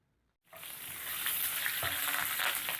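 Dried red chilies, asafoetida and curry leaves tempering in hot oil: after a brief silence, a sudden bright sizzle erupts and holds as a steady, crackling hiss close by.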